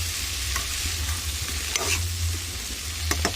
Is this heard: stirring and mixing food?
yes